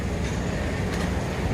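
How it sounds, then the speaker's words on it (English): A monorail train at a Disney park rumbles past with a steady, dense rolling noise, fairly loud and continuous over the brief moment. "That's going to be a monorail."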